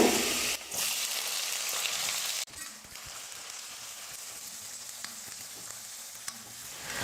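Shallots, garlic and curry leaves sauté in hot oil in a pan for a Tamil fish curry. A loud, steady sizzle dips sharply after a couple of seconds, then crackles on evenly.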